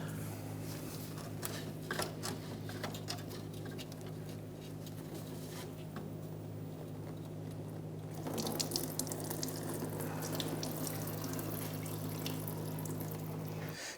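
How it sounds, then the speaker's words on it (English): Coolant draining out of a radiator hose on a 1992-1996 Toyota Camry 2.2L I4, a continuous splashing, pattering liquid stream that grows heavier partway through, steady and close over a low hum. "Now the majority of our coolant drained out."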